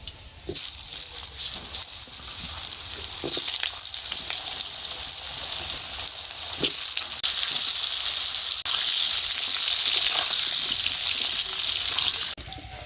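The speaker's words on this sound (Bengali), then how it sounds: "মাছ ভাজা তেলের মধ্যে আলুগুলো দিয়ে একটু ভেজে নেব।" Potatoes frying in oil previously used for frying fish, a continuous bright sizzle with occasional pops and stirring clicks, close-up and steady throughout with no talking.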